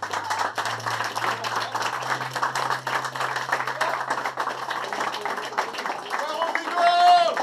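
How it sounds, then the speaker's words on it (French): An audience claps and applauds at an evening gaming event in a café, where a player has just attempted I Wanna Be the Guy. The clapping is dense, steady and moderately loud, with a few voices mixed in, and it fades toward the end. "On peut encore applaudir, s'il vous plaît."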